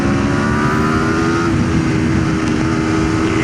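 Aprilia RSV4 Factory motorcycle accelerating hard to overtake, a loud steady engine roar with rising pitch and heavy wind noise, heard from onboard without talking.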